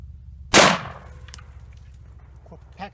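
A single sharp report from an M1941 Johnson rifle cracks out loud and close, then decays into a faint ringing tail with a few light clicks and rattles afterward.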